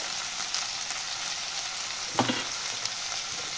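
Tomatoes frying in a pan with ginger-garlic paste for a boondi curry give a steady broadband sizzle throughout, with one brief soft clunk partway through.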